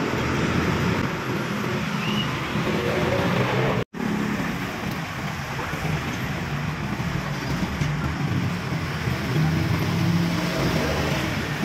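Steady road traffic roar with vehicles passing continuously on a flooded street where firefighters are clearing a blocked drain, loud and broad throughout with one brief dropout, no talking.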